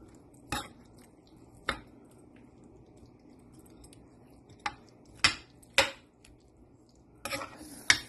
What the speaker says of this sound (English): So I add some eggs and mix in the both tray.